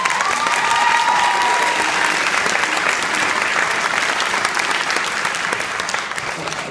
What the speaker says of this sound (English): I was going to ask you guys to applaud anyways, but okay, thanks